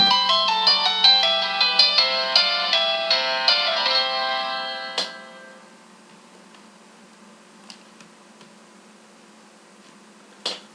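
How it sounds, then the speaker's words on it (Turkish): A phone ringtone plays a bright, repeating melodic tune for about five seconds, loud and close, then cuts off, leaving a quiet room with a few faint clicks. "telefon çaldı"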